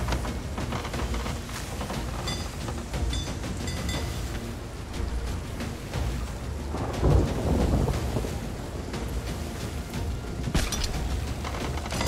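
A thunderstorm in a video game, with lightning: loud rolling thunder over steady heavy rain, and a stronger crash swelling near the middle. The storm keeps roaring without any voices.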